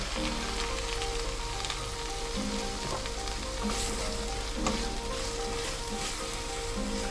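Onions sauté in a hot oiled pan for tiffin sambar with a loud, continuous crackling sizzle and occasional soft stirring scrapes throughout.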